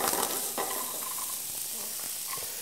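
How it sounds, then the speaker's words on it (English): Diced golden acorn squash sizzling in a hot oiled pan, a steady close frying hiss with light stirring scrapes and faint pan clinks throughout. "And then we're going to start by adding our golden acorn squash that I've diced up already."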